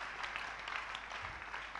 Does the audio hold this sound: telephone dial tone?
no